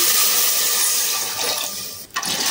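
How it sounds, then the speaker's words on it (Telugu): Water is poured into a pot of roasted toor dal for pappu charu, making a steady, close rushing pour that ends abruptly near the finish. "కందిపప్పు బాగా వేగిన తర్వాత వాటర్ పోసుకోవాలి"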